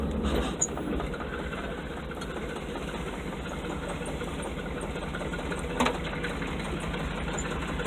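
A cheap used Chevrolet K5 truck, driven on a muddy trail in two-wheel drive after months unused, gives a steady, close low engine drone that holds evenly throughout with no voices.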